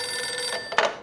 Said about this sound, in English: Detective Winterson's phone.